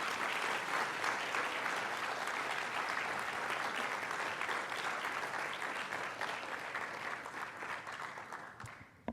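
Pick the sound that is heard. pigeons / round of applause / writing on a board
round of applause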